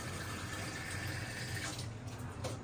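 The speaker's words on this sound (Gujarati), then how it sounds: "1 ગ્લાસ પાણી એ નહીં થાય, આપણે થોડું વધારે પાણી નાખશું હજી." Water is poured steadily into a pressure cooker holding raw peanuts, making a soft, continuous rushing stream, fairly faint and unbroken, with no voices.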